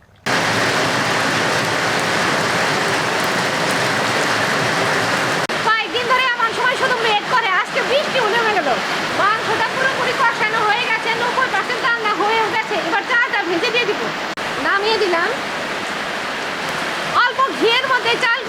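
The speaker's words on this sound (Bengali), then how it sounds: "চালটা পরিষ্কার করে ধুয়ে রাখি ধুয়ে নিলাম কয়েকবার" Rice for chicken polau is rinsed in water: continuous splashing and sloshing, first a steady pour, then rougher swirling and stirring with irregular bursts, close and fairly loud, with no talk.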